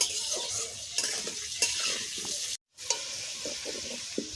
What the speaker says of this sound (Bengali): খাসির মাংসের আলু ভালো করে লাল করে ভাজতে হবে।